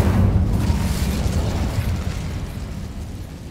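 An Incendio fire spell cast in the video game Hogwarts Legacy, a loud, rumbling, explosive roar that starts strong and slowly fades over a few seconds.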